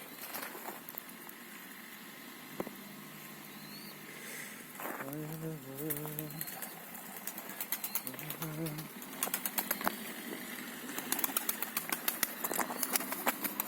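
A pigeon's wings flap and clatter as it takes off, bursts of fluttering that grow busier toward the end, over an outdoor background with someone speaking at times.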